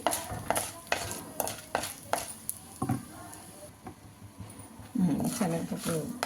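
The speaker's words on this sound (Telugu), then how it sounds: "శనగపప్పు సరిగ్గా వేగం కాబట్టి ముందుగా ఇవి వేయించుకోవాలి." Chana dal frying in sesame oil in a pan, heard as a low steady sizzle with repeated scraping stirs throughout, and a voice talking over it near the end.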